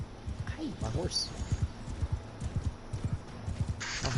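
A horse hammers along at a gallop in Mount & Blade 2 Bannerlord, with rapid, steady hoof thuds that run close and loud. Brief high squeals and clatter break in now and then.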